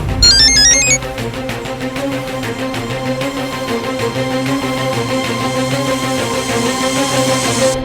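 A mobile phone ringtone plays steadily for about eight seconds in a Hindi crime drama, a melodic tone opening with a brief bright chime, then continuing as a sustained musical pattern at even volume with no talk.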